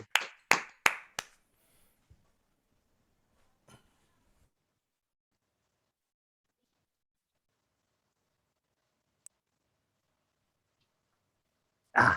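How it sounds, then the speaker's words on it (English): Attendees of an online conference opening ceremony clap through unmuted microphones: four quick sharp claps up front, a couple of isolated faint taps, then near silence before a short burst of clapping right at the end. "So unmute your mics, a round of applause for everyone involved."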